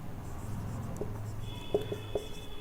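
Marker or chalk writing on a board during a maths lesson, soft scratching strokes with a few sharp taps, close and fairly quiet with no voice over it.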